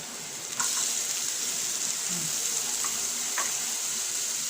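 Onion and bay leaves drop into hot annatto oil in a pan for beef kare-kare, setting off a sudden, steady close sizzle with a few faint clinks and no talking.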